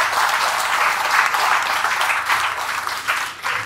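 An audience applauds steadily at a French-language gathering, a dense wash of clapping that runs the whole time without a break and swells slightly in places.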